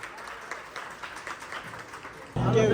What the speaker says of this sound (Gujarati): તો બધા તાળીઓથી પહેલા એમનું સ્વાગત કરશે